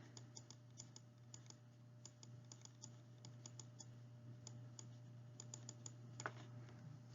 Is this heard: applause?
no